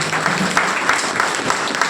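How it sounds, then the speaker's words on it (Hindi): Loud audience applause at a business plan meeting, a dense steady wash of clapping that holds at full level for the whole stretch with no voice over it. "एक बार मेरे लिए जोरदार तालियां बजा दीजिए"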